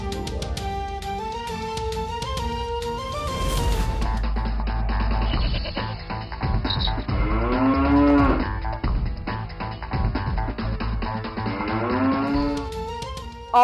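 Cattle moo at a busy Eid livestock market, with several drawn-out, loud lowing calls rising over a dense, noisy crowd background throughout.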